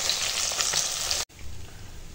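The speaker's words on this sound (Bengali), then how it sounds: "ওই মাছ ভাজার তেলেই দিয়ে দেবো কেটে রাখা পেঁয়াজ। পেঁয়াজটা একটু ভেজে নেব লাল লাল করে একেবারে।" Sliced onion dropped into hot oil left from frying fish, a loud bright sizzle that cuts off abruptly partway through, then a quieter low background.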